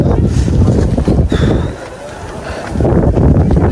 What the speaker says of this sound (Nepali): राम दाद हावा त बबाल